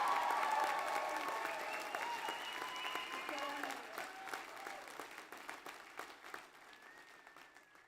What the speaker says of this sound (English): another big round of applause as he addresses each and every one of us